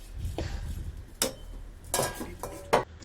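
Spoon scraping and stirring white urad dal as it dry-roasts in a metal pan, a few distinct clinks and scrapes spaced irregularly over faint background noise.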